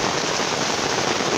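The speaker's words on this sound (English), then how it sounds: "it is just downpouring. But I don't care, it's raining" Heavy rain pours down steadily outside a hunting blind on public land in Indiana, a dense, constant hiss of drops drumming close on surfaces with no break.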